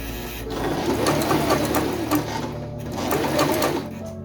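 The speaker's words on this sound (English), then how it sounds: "Sew stitch AC 6 to 8 times across the first horizontal mark" A SINGER M1250 sewing machine sews a buttonhole stitch, its close mechanical whir running in two bursts of rapid rhythmic clatter with a brief pause between them. Nobody speaks.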